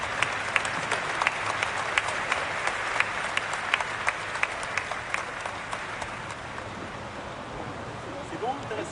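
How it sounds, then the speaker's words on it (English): A standing ovation for Zelensky inside Notre Dame cathedral, with sustained dense applause from a large crowd in a reverberant hall, steady with sharper claps, over about nine seconds. "A standing ovation for Zelensky"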